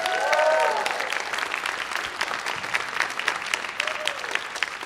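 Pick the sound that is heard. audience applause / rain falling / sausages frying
audience applause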